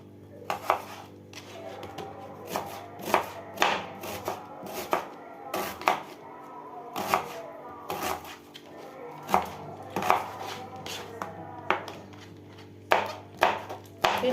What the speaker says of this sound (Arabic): أول حاجة هنقشر البصل زي ما انت عايزة، الكمية اللي انت عايزاها طبعا، وهتقطعها كده معايا